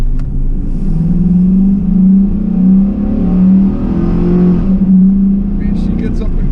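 A 2002 GMC Sierra Z71 4x4 pickup pulls onto a main road, its engine droning and climbing through steady rising rev sweeps heard from inside the cab, with someone talking over it.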